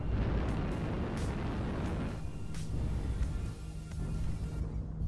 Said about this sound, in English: Watch out, airstrike.